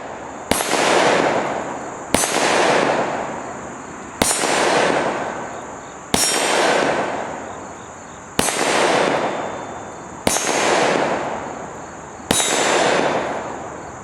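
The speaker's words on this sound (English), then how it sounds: "Watch closely, you're going to see the bullet strikes on the Evil Roy target." Seven evenly spaced, loud pistol shots from a CZ52 firing .30 caliber Tokarev rounds at a steel target, roughly two seconds apart, each a sharp crack with a ringing decay.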